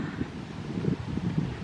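Wind blows outdoors, a low, uneven rumble with soft gusts and buffeting against the microphone, moderately loud and without speech.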